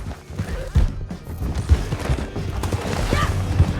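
Horse hooves clatter at a gallop in Red Dead Redemption 2, a dense run of loud thumping beats mixed with game noise and shouting voices.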